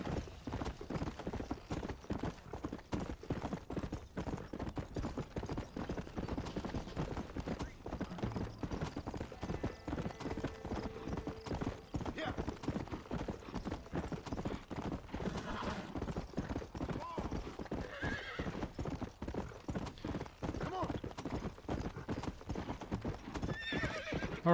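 In the Red Dead Redemption video game, a horse's hooves clip-clop in a steady, brisk rhythm throughout, with occasional neighs. A voice speaks faintly over it.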